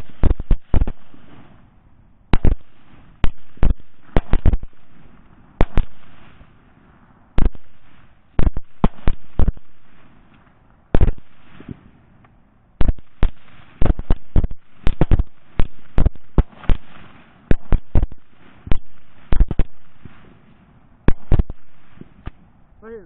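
Rifle shots at wild hogs during a night thermal hunt, a long run of sharp, loud cracks, some single and some in quick clusters, each trailing off into a brief echo, with no talk between them.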